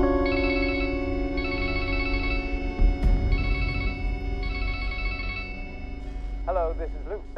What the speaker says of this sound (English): this is Luke's fancy phone that he still doesn't know how to work